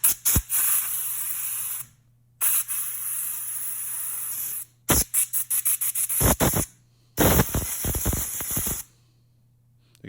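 A can of brake cleaner sprays onto a car pulley in loud, close hissing bursts, a few long sprays separated by pauses and then a run of short rapid squirts.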